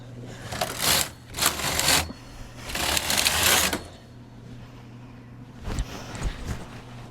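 A knitting machine knit-weaving with a punch card, its carriage making loud rattling, clacking passes in three bursts with quieter gaps between them, then a fainter fourth pass.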